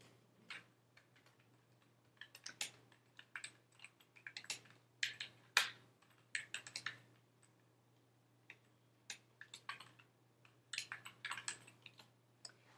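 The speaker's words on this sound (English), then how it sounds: "let me just type that" Fingers type on a computer keyboard in irregular bursts of close, crisp clicks with short pauses, over a faint steady hum in a quiet room.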